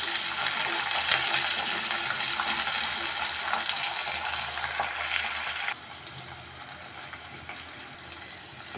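Chopped shallots fry in a pan over a low flame, a steady broadband sizzle that is louder for the first few seconds and then drops to a quieter, even crackle.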